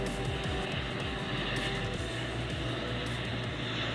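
A military transport plane's engines roar in a dense, constant drone with a low rhythmic throb, loud and close as if heard from inside the aircraft during a paratrooper jump.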